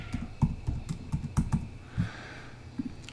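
A run of distinct, fairly loud keystrokes on a computer keyboard as a password is entered, about a dozen taps in an uneven rhythm, close up and with no voices.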